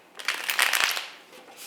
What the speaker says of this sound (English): the oracle decks are pre-shuffled, so you can certainly skip the shuffling part